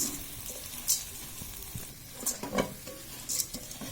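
Vegetables and chopped potato with turmeric, chili and coriander being stirred in a pan for vegetable khichuri, giving a soft continuous sizzle with a few sharper scraping clicks of the spoon, close and moderately quiet.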